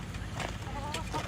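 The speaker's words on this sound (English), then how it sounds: "Oh, here comes the chicken" Chicken clucking at a farm animal sanctuary, short soft clucks and squawky calls close by over a steady low rumble, with faint voices in the background.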